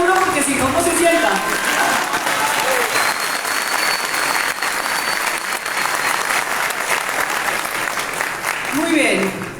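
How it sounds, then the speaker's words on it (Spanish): Loud, sustained crowd applause at the launch of Vicky Dávila's book, a dense wall of clapping with a few voices and cheers rising over it. "Aplaudan duro porque si no, no se sienta."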